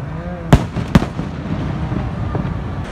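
Two sharp firework bangs go off in quick succession early on in a Mexican street, followed by crackling and distant rumbling against a steady outdoor background.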